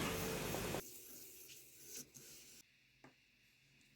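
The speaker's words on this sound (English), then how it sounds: "Now we need a very soft wet sandpaper." Resin jewelry is sanded with very soft wet sandpaper, giving a brief, fairly loud rasping rub at first that quickly fades into faint scratches and light handling noises.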